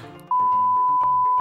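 A single sustained censor bleep tone cuts in for about a second over muffled French-speaking voices in a comedy show, ending abruptly.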